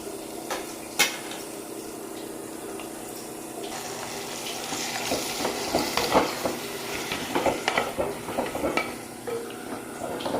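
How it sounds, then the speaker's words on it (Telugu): Tomato going into a pot with ginger and turmeric, with an initial knock, then a wet sizzle and busy stirring clatter that swells midway and trails into quieter frying. "ఇప్పుడు టమాటా కూడా వేసేసుకుంటాను."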